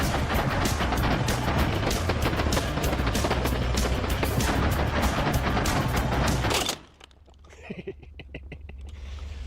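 An AA-12 automatic shotgun fires a long, rapid string of loud, close shots for about six and a half seconds, then cuts off abruptly into near silence.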